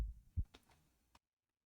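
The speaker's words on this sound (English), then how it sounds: "we can hear a heartbeat sound from the heart that's at the top of this" Heartbeat from a heart atop a giant castle tower in Foundry VTT: a couple of deep, muffled thumps followed by fainter pulses, then sudden silence.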